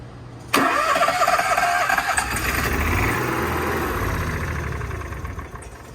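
The generator on a 2019 Keystone Raptor 423 RV cranks and catches with a sharp start, then settles into a loud, steady running drone that eases slightly over several seconds.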